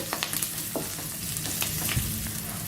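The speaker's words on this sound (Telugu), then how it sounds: "ఇలా ఉల్లిపాయ ముక్కలతో పాటు ఆ వెల్లుల్లి కొద్దిగా ఫ్రై చేసుకొని" Chopped onion and crushed garlic frying in a pan for a raw banana fry, a continuous close sizzle with a few light stirring clicks.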